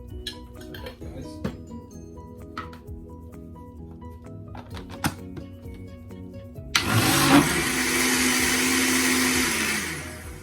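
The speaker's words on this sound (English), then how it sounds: "Just use your blender to blend up that honey inside of it." A kitchen blender mixing cucumber juice with honey roars up loud and close after a stretch of quieter clinks and handling noises, then keeps whirring steadily until the end.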